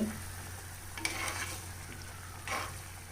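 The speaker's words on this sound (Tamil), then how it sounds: "இப்போ சொரக்காய் நல்லா வெந்து கொதிக்க ஆரம்பிச்சிருச்சு." Chopped bottle gourd simmers in a pot of buttermilk curry with a faint, steady bubbling hiss, broken by two brief metallic clinks near the middle and end.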